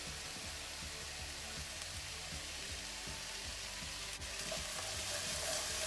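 Chopped mushrooms and minced garlic sizzling in a pan for a vegetarian breakfast hash, with a steady quiet fry and rhythmic scraping as the pan is stirred; no talking.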